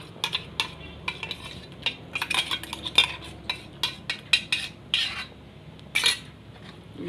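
A spoon clinks and scrapes against a pot while badam shake mixture with ground cashews is stirred, giving irregular metallic taps and knocks, some bunched and some spaced out, fairly close, with no speech.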